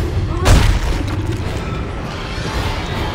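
A single heavy gun blast booms out loud and close in the Dead Space 3 co-op shooter, a sharp burst that rings briefly before settling into a low background rumble.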